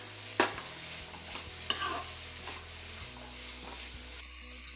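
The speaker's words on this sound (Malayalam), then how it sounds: "ഇതിലേക്ക് നമ്മൾ ആ വെളുത്തുള്ളി പൊളിച്ച് വെച്ചത് ഇട്ടു, ഈ പച്ചമുളക്, പിന്നെ ഇഞ്ചി. ഇനി നമുക്ക് ഇത് നന്നായി വഴറ്റിയെടുക്കാം" Garlic, green chili and ginger sauté in a hot pan for an egg pepper masala, giving a steady close sizzle, with a few sharper spatula scrapes and stirring clatters and no talking.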